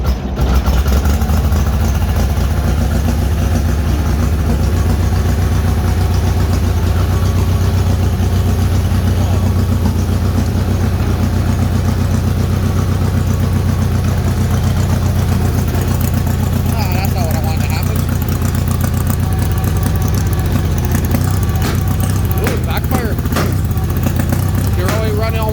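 A Bolens HT-23 garden tractor with a snowblower, its engine running cold just after choking, chugs steadily and loudly at close range for the whole stretch, with a person talking over the idle.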